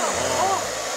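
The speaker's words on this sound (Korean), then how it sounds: "진짜로 드라이기를 한다고요?" A hair dryer blowing on potatoes, a steady loud whooshing hum of air throughout, close by.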